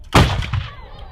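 An eighteen-pounder field gun fires a single shot during a WWI centenary event at Tilbury Fort, a loud, sharp close blast with a booming low tail and echo that dies away within a second.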